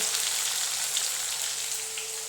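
Onion, coriander and raw green banana frying crisp in oil in a pan, a steady dense sizzle running loud and close throughout without pause.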